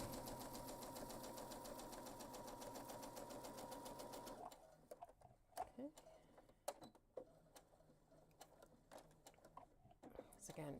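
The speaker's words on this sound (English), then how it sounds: "Some of these seams I'm sewing much faster than I normally would" A sewing machine runs fast and steady through backpack seams for about four seconds, then stops, leaving scattered clicks, taps and fabric handling close by, with a soft voice murmuring.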